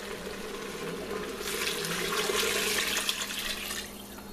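Beef broth made with concentrated beef base is poured back into a pressure cooker, a steady splashing pour that swells for a couple of seconds and then tapers off, with no one talking.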